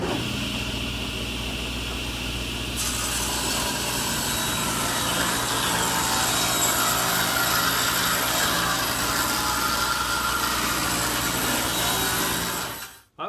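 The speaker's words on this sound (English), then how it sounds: "The next step is to rip the wooden infill piece to 1/2 inch" A saw rips a wooden infill piece down to half an inch, a loud, steady grinding roar that holds through the whole cut and stops abruptly at the end.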